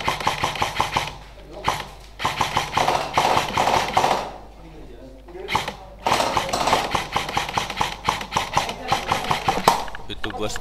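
Airsoft guns fire in rapid repeated bursts of sharp taps and thuds during an Indonesian airsoft match, close and loud, with short pauses between volleys.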